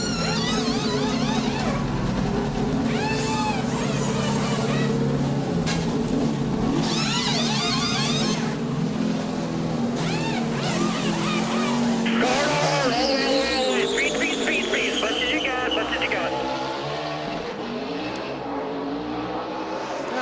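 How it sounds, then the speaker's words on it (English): A NASCAR Sprint Cup stock car during All-Star Race qualifying, engine roaring and revving loudly as it spins its tires and shifts gears down pit road, a continuous high, wavering whine that fades somewhat toward the end. "he was really spinning tires all the way down through there"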